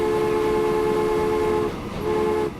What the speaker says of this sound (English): We call this the cow train.